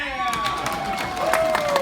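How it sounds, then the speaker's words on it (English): Wedding guests at a reception clapping and cheering, a lively crowd roar with high whoops and shouts over a bed of applause, building slightly toward the end. "let's give another round of applause for Jordan's grandma."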